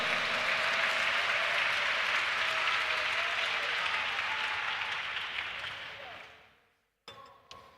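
A church congregation applauds steadily and loudly for several seconds, then the clapping fades out into quiet.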